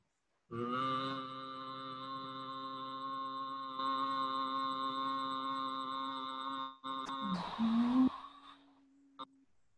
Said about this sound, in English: And as you exhale, make the humming noise.